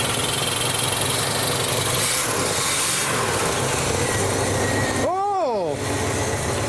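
Snoop Dogg's car engine runs loud and steady at idle, a continuous rumble with a rising rev sweep near the end; people talk over it.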